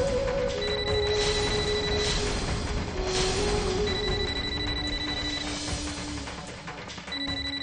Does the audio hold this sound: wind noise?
no